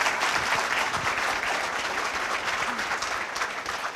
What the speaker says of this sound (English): I would like to ask everybody here to offer a very loud applause